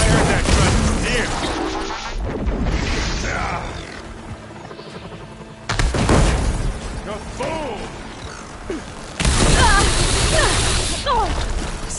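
Heavy explosions and mechanical crashes boom through combat in Horizon Forbidden West, with several loud bursts rising over grunts and game voices.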